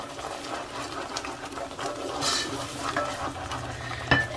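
Broccoli, cold from the fridge, being stirred as it heats in a frying pan: a soft sizzle under repeated scraping strokes of a utensil against the pan, ending with a sharper clink.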